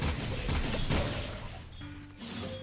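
Enemies fire at the player in the action game Jak 2, with a burst of dense rattling gunfire and crashing impacts up front, then fading into mechanical hums and tones.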